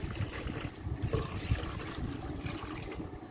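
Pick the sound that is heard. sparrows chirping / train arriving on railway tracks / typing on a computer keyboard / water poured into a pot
water poured into a pot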